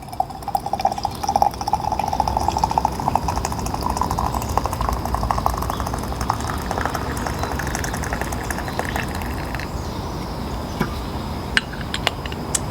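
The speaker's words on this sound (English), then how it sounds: "stuff our little herbs into our Brown Betty teapot and fill it with water" Water pours into a Brown Betty teapot packed with herbs, a steady gurgling fill with a rising tone in the first few seconds, then a continuous trickling stream at a close, even level.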